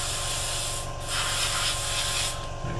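Airbrush spraying paint onto a 1/48 scale Hobby Boss A-10A model kit, a steady, loud, close hiss whose pitch shifts partway through, with brief dips in the airflow.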